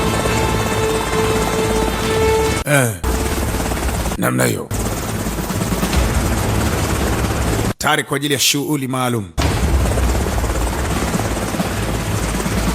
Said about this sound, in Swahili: Basi moja kwa moja helikopta ilifika eneo husika.